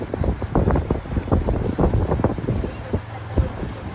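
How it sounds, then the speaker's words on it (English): Strong wind buffets the microphone in gusty, rumbling bursts, a constant blustery roar close up with no voices. "It's pretty windy right now."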